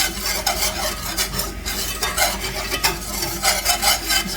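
A whisk works butter and all-purpose flour into a paste in a hot pan, a continuous brisk scraping and rattling over a soft sizzle.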